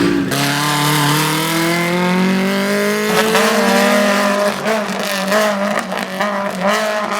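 A Honda City VTEC touring car drives hard on a race track, its loud engine note rising steadily through the gears with shifts and brief lifts, close and continuous throughout.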